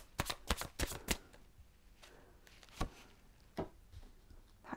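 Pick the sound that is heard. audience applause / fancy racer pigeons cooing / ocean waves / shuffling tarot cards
shuffling tarot cards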